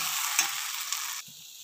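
Beaten eggs sizzle loudly in a hot pan with drumstick flowers and chickpeas, a bright continuous frying hiss that drops abruptly to a quieter sizzle with brief stirring scrapes.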